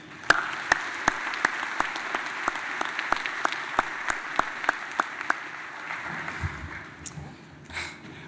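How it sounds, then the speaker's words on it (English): Audience applause fills a high school commencement ceremony, sustained steady clapping from a large crowd for several seconds before fading out. "Would you join me in a brief round of applause once again?"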